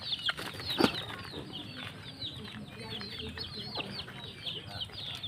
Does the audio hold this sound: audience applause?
no